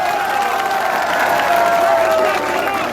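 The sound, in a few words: crowd applause welcoming a politician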